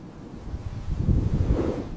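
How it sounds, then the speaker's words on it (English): Steady wind blowing with a low, rumbling roar that swells slightly louder partway through, like gusts buffeting the microphone. "It is windy."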